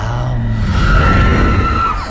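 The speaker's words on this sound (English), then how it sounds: "Yang makes this weird screaming noise for whatever reason, and it's actually kind of creepy." A cartoon ninja character lets out a weird, creepy scream, one loud sustained wailing cry lasting about two seconds, shifting in pitch over a steady backdrop.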